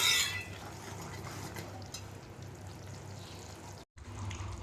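Punjabi gravy for a dhaba-style corn and paneer dish simmers in a pan, giving a soft, continuous sizzle and bubbling that stays quiet and steady, with a brief gap near the end.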